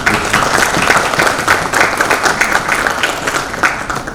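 An audience at an IEEEP Karachi Centre conference applauds, a dense, steady round of many hands clapping close and loud throughout, with no one speaking over it.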